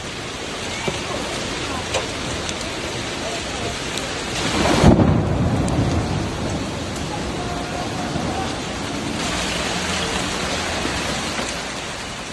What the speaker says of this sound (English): Heavy hail suddenly strikes Florence, forcing tourists to rush for shelter